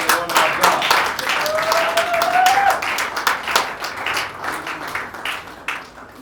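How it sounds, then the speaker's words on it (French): Church congregation applauding during a Sunday service, a steady crowd clapping sustained throughout, with voices and a sung or called-out tone rising over the applause before it thins toward the end. "Let's applaud the Lord our God."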